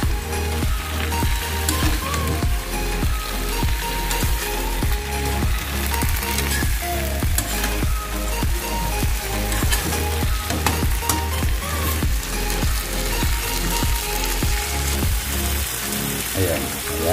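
Garlic butter shrimp sizzle loudly and steadily in a hot pan while being mixed, with a dense crackling hiss and repeated stirring scrapes throughout, close and continuous.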